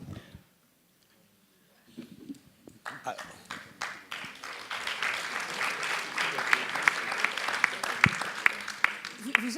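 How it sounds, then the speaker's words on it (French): An audience applauds after the closing remarks of a day-long meeting on agriculture and the environment; after a quiet start, dense clapping builds and grows steadily louder, with voices mixed in. "Vous applaudissez"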